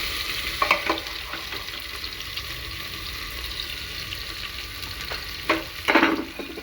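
Potatoes tipped into a pan of frying tomato mixture for an aloo gwar sabzi and stirred, giving a steady close sizzle with scraping stir bursts near the start and toward the end; no talking.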